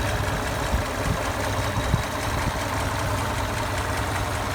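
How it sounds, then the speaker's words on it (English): A Toyota FJ60 engine with a DUI performance distributor idles steadily nearby, a low rumbling exhaust with a slight uneven gurgle and no voices. "I did notice a little bit of a more gurgle in the exhaust tone"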